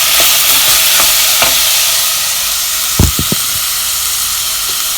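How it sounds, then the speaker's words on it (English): A spoon stirs a pot of minestrone soup packed with assorted vegetables over a steady loud sizzle and hiss, with a few soft scrapes early and a cluster of sharper knocks near the middle. "as we keep stirring it"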